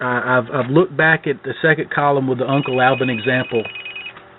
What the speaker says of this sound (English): I'm sorry about that phone ringing.